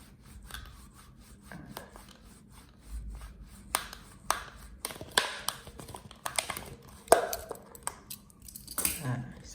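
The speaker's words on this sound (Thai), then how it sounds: "ให้ สามารถนำเชือกได้ของเราเนี่ยสอดเข้าไปได้นะครับ แต่คุณครูเจาะก่อน" A teacher bores a hole for string through a homemade sound-travel model, producing scattered scraping and rubbing bursts with irregular clicks, close and fairly quiet, while someone speaks at times.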